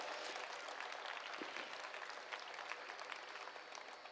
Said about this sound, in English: Give this dog a round of applause.